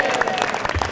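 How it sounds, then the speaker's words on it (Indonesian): A studio audience at a televised motivational talk show bursts into loud, dense applause mixed with crowd noise, close and continuous. "Kasih tepuk tangan dong,"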